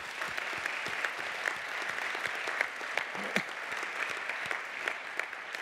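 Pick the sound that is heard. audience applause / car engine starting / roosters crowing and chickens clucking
audience applause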